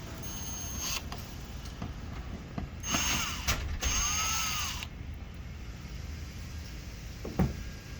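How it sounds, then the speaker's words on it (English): Screws being removed from a push button assembly, heard as a few short mechanical whirring and ratcheting bursts from a screwdriver or small driver, with one longer run in the middle, over a steady low room hum and no talking. "So now we'll go ahead and remove the screws."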